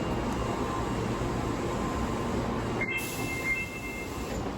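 A subway train in Japan rumbles along with a steady broadband roar, then a thin high wheel squeal rings out over it for a couple of seconds.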